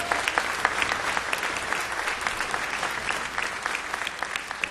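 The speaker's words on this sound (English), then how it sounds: "Let's have another round of applause." An audience applauds steadily and densely, with many hands clapping at once in a sustained wash of sound that holds an even level throughout.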